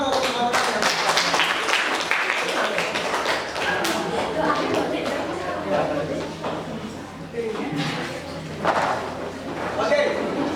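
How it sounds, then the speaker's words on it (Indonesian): Pupils in a classroom clap for their classmates after a science demonstration on states of matter, a dense, steady patter of many hands running throughout at fairly close range, with voices mixed in. "tepuk tangan untuk teman-teman yang"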